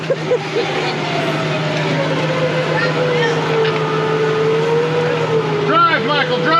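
A Lexus GX470 revs hard during a rainy trail recovery at Windrock Park, its engine droning and rising steadily, with people shouting nearby.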